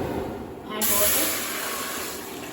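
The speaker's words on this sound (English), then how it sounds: "Add water." Water pours with a steady hissing rush into a pot for traditional pumpkin curry, close and fairly loud, growing fuller after a brief start.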